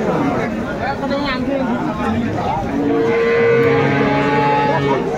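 Dairy cows and calves of improved breeds low and moo at a busy rural cattle market in Dinajpur, with repeated calls close by over a steady babble of crowd voices and talk.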